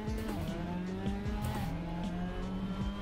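Roughly twenty race cars run on track in a VR racing video game, a dense layered whine of engines with quick upshift drops and pitch sweeps repeating every half second or so, steady and fairly quiet.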